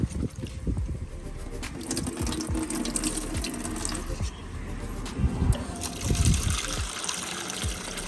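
A taro plant cutting washed clean under running water from a tap, with a continuous splashing flow close by and uneven thumps and gushes as it is handled.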